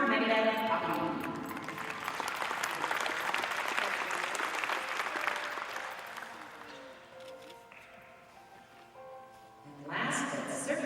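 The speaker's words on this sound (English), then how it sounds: "Let's have one more round of applause for our grand champion" Spectators at a dairy show applaud the grand champion Shorthorn cow, a broad wash of clapping that thins out toward the end before a brief loud surge; a voice talks over the applause.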